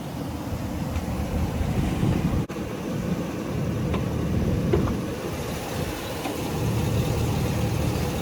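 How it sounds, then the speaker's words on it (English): A 6-liter Vortec V8 in a 2020 Chevrolet Express 2500 4x4 van runs steadily at idle, a continuous low rumble with a brief dip partway through and no talking. "6-liter Vortec V8 engine."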